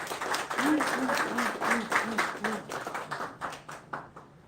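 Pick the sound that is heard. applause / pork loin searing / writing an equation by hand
applause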